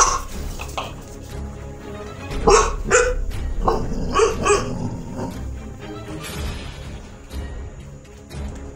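A dog barks in short loud bursts during a tense indoor encounter with a snake that got into a bedroom, with a few whimpering yips between the barks and some background movement.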